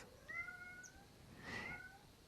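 A cat meows twice, two drawn-out rising-and-falling cries with a short gap between, fairly clear and alone against a quiet background.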